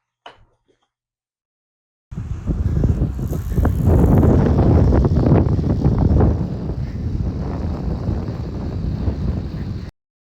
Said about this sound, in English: It's really windy today outside.